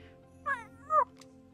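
A cat in the game Potions: A Curious Tale gives two short, clear meows about half a second apart, followed by a faint chirp, over a low steady background hum.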